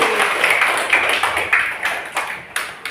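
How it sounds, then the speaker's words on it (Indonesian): Classroom applause for a student during a Quran recitation lesson, a small group of children clapping in scattered, uneven claps that thin out toward the end. "tepuk tangan untuk Amrul"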